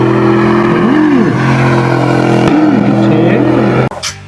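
A square body Chevy K20 truck's engine drones steadily through its exhaust, rising and falling in a few revs before cutting off abruptly near the end, loud and close.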